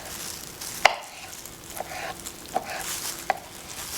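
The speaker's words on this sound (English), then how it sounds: "we're just gonna roughly chop up these artichokes" Artichoke hearts being roughly chopped with a knife on a board, a few sharp separate knocks spaced irregularly over a soft background hiss.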